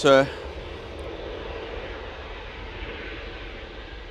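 A Boeing Dreamliner jet airliner at Manchester Airport produces a steady, distant engine roar and broad rumble, preceded by a brief burst of a voice at the start.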